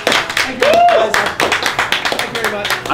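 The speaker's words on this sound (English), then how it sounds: "Round of applause for AJ." Lively clapping bursts from a small group of friends in an office, sharp and close, mixed with talking and excited voices over it.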